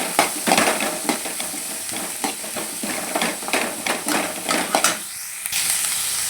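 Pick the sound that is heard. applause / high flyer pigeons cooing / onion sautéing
onion sautéing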